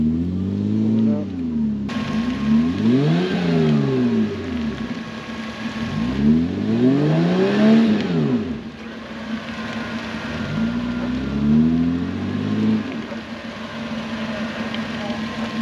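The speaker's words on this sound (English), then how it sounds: "I'd put it in reverse just so as the get the tires spinning" A vehicle stuck in mud or clay is revved in reverse with its tires spinning: the engine surges up and falls back in repeated loud, close swells over several seconds.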